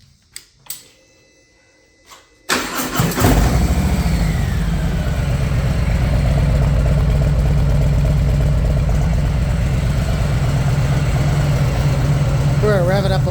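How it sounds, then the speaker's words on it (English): A motorcycle fitted with a Bassani exhaust still holding its fiberglass packing fires up after a few quiet clicks, then settles into a steady, deep, loud idle that rumbles on without a break. "this is the startup of what it sounds like with that packing still in there"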